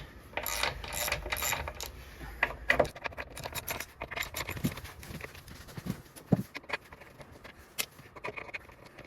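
Metallic clicks and ratcheting close by as four screws are undone on a Can-Am Ryker mounting for a Shad saddle bag bracket, irregular bursts of tool and hardware rattle with no speech.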